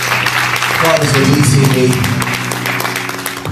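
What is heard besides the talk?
congregation clapping hands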